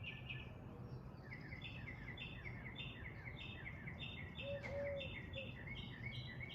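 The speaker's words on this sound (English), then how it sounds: "Listening to those birds sing, truly being present." Birds sing in repeated chirping phrases over a steady low background rumble, faint and somewhat distant, with one clear whistled note partway through.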